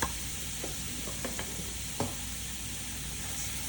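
Onion, garlic and Cajun spice sizzle steadily in a pan, a dense continuous frying hiss with a few soft clicks of stirring, close and without talk.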